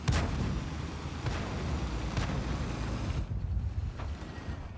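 Low-tier artillery in World of Tanks: a few heavy booming blasts spaced over a rumbling battlefield bed, close and loud, with no talking.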